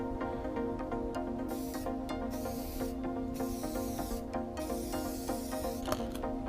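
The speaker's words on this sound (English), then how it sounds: "I spray a heavy coat." Crystal clear coating sprayed in a heavy coat onto a clay sculpture of a black bear with cubs: several short, close hissing aerosol bursts separated by pauses, over a steady low hum.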